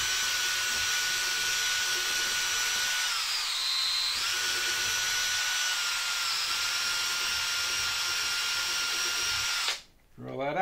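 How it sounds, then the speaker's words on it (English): A drill whines continuously at high speed, pitch dipping briefly under load while boring into nylon, then cutting off abruptly near the end. "drill that out."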